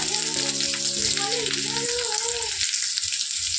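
Sliced bitter gourd frying in a pan gives a steady close sizzle. A voice and a brief tonal sound sit over it early on.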